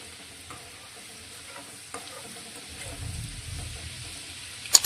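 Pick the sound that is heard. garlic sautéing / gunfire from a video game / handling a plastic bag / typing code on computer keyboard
garlic sautéing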